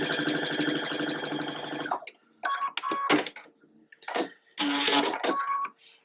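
A sewing machine stitching two fabric rectangles together along their short sides, a fast, even mechanical whirring run that stops abruptly, followed by short bursts of stitching and handling sounds, close and clear.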